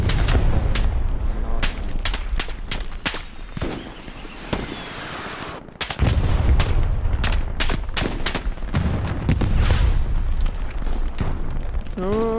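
Rapid gunfire and booming explosions crackle through a chaotic battlefield in the WWII shooter Hell Let Loose on the Stalingrad map, with repeated sharp bursts, heavy low rumbles and occasional voices mixed in.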